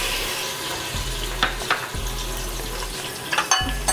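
Ginger-garlic paste frying in a pan after onions are removed, for a tindey gosht mutton curry; a soft sizzle with a few stirring clinks and scrapes, close by and with no talking.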